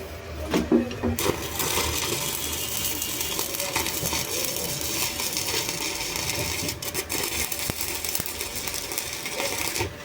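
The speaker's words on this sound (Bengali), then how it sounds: "আমি এখন ওয়েল্ডিং করবো" Arc welding with a repaired circuit-type welding machine, a steady dense crackling hiss running throughout at close range, with a brief cooling-fan hum and no talking.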